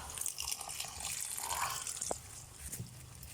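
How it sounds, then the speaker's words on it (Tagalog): Coconut milk poured into a cooking pot of jackfruit stew, a faint liquid gush and splash with a few drips, quiet and close in a home kitchen, with no talk. "Ating buhos yung unang gata."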